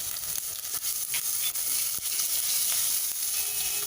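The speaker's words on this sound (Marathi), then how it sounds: "जिरं पण छान फुलू द्यायचं आहे तेलात। हे आलं घालून घेऊया," Cumin and ginger sizzle in hot oil, a steady, close crackling hiss with small pops throughout and no talk.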